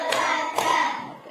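A couple of sharp hand claps spaced about half a second apart during a counting concentration clap game, close and crisp, each followed by a sustained voice tone; no other rhythm beyond the two beats.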